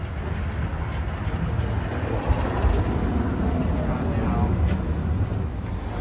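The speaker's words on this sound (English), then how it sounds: "here is my tram" A Budapest city tram rumbles by at close range, a steady low roar with faint rail squeal and a brief clunk, loud and continuous throughout.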